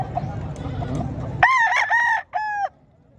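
A rooster crows loudly in two bursts, the second one shorter, following a stretch of busy background chatter and noise at a gamefowl expo in Pinamungajan, Cebu.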